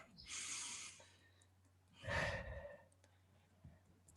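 Two deep breaths during a relaxation exercise, a soft airy inhale followed a moment later by a fuller, slow exhale, close and quiet in a still room.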